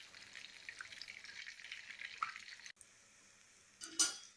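Soya chunks deep frying in hot oil, a steady fine crackling sizzle that runs on, breaks off briefly, then returns with a louder bubbling burst near the end.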